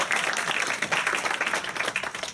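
Broadway theater audience breaks into lively applause after a live musical number, dense clapping with a few cheers, loud and sustained throughout.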